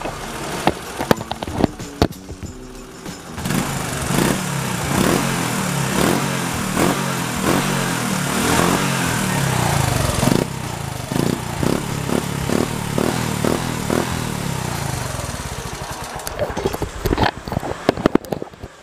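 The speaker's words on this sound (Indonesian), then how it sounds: "jadi ini knalpotnya udah kita pasang." Motorcycle fitted with a Tsukigi racing exhaust from Thailand revs repeatedly, with sharp throttle blips and a deep, round exhaust note close to the microphone, sometimes dropping back to a rough idle.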